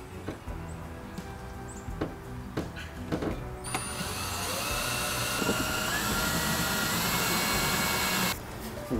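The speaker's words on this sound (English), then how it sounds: "Now I'm going to take my drill and I'm going to put a couple small pilot holes in here." An electric drill bores small pilot holes. Clicks and handling come first, then the motor whirs up and runs steadily for about four seconds before stopping abruptly.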